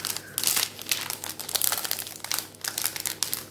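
A plastic magazine packet holding a LEGO DC Comics Shazam minifigure crinkles and crackles in irregular bursts as hands struggle to open it, close and fairly loud with no talk.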